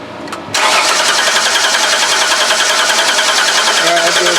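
A 2005 Ford Freestar 3.9L engine cranking without starting after an engine swap, the starter whirring loud and steady with a fast rhythmic chug after a brief quiet start.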